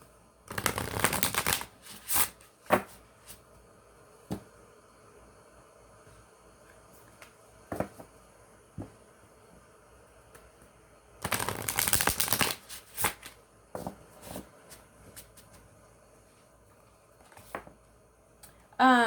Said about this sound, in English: Give them a shuffle real quick.